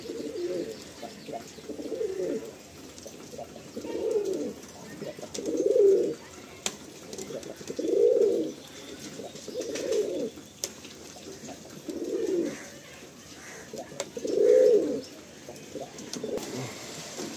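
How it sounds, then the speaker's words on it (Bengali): Red Madras pigeons give repeated soft coos in a slow, regular rhythm, roughly eight calls spaced a couple of seconds apart, close by and clear over a quiet background. "অনেকদিন পর লাল ম্যাড্রাস নর শখ হচ্ছে"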